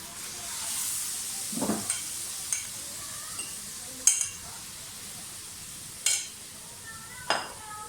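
Butter heats in an open pan to make homemade desi ghee, giving a soft, faint sizzle broken by a few sharp clinks of a utensil against the pan, with no talk.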